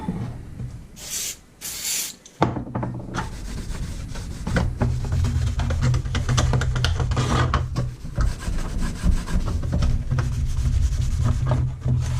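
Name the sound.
scuffing car T-top surface before painting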